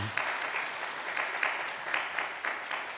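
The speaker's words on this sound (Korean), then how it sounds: "환영의 박수 부탁드립니다." A church congregation at a Sunday service in New Jersey applauds in welcome of a new staff member, light scattered clapping heard at a moderate distance.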